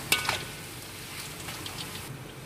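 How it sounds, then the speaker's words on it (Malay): Banana slices for kerepek pisang frying in hot oil, a steady soft sizzle and crackle with a few sharper pops near the start, close and moderately quiet, no talking. "kita goreng sampai ke kuningan"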